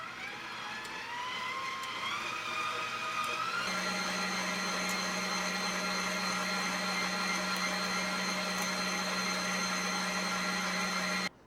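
A stand mixer with a whisk attachment mixes pretzel dough, giving a steady motor whir and hum that starts partway through and continues evenly, close and moderately loud.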